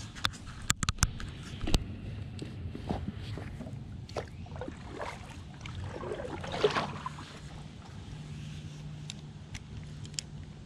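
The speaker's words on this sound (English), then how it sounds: "I'm gonna paddle back upstream." Kayak paddling upstream on a Mid-Michigan river, soft paddle dips and water swishes with trickling and occasional knocks against the hull, quiet and close.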